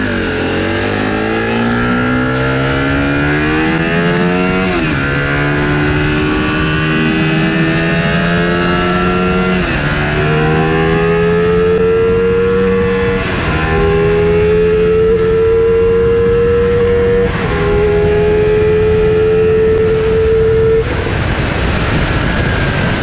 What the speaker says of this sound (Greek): ο ήχος του δεν θυμίζει αυτό το οποίο ξέρουμε εμείς ως Ducati